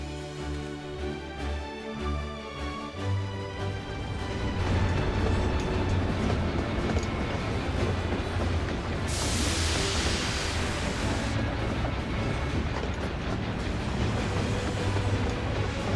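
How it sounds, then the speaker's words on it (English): A train pulls in within Final Fantasy XIV, starting with a tonal horn-like chord, then a loud rumbling, rattling roll of wheels on track, with a burst of brighter hissing noise midway, sustained and close. "That's a pretty short train"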